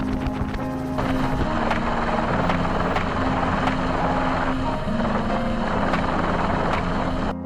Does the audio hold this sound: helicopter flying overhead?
yes